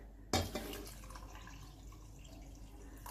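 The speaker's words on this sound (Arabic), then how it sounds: "غادي ندير الكاس الماء، ها هو كاس الماء عامر" A glass of water poured into a pot of meat for a Moroccan tagine with prunes, a sudden splash followed by a brief trickle and fading drips, close and fairly quiet with no talking.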